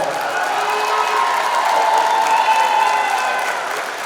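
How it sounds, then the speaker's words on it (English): Crowd at a girls' high school basketball game between Albertville and Guntersville breaks into sustained applause and cheering for a coach, a loud, steady roar with whoops that fades slightly at the end. "Let's give him one more big round of applause"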